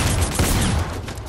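Dense, loud video game gunfire in a duo battle royale match, a continuous close rattle of rapid shots with no pauses.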